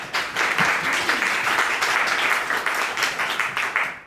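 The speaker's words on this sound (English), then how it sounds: "Big round of applause for them." A talk audience applauds two speakers of a mutual aid discussion, a dense, steady wash of many hands clapping together for about four seconds at fairly loud, even level.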